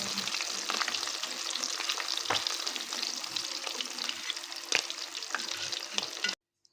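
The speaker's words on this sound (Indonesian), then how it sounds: "Ini aku goreng sisa ikan yang belum aku goreng tadi, 2 biji lagi." Two mackerel fry in hot oil in a pan, a busy crackling sizzle scattered with sharp pops that stops abruptly near the end.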